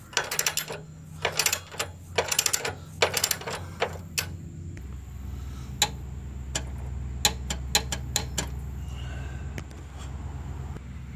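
A torque wrench tightens bolts on a brace of a 2013-2015 Chevrolet Malibu LT 2.5L, producing quick bursts of ratcheting clicks early, then sparser single clicks over a low hum.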